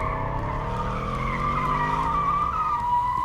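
A steady, loud tire squeal from a skidding car in the Minecraft game rings out over a low engine drone, holding without a break and without voices.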